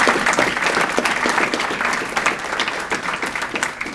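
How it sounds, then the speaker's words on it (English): A gala audience gives a round of applause, a dense, lively wash of many hands clapping at close range, steady throughout with slight swells. "So please stand up, Jim and Annalisa, so we can give you a round of applause."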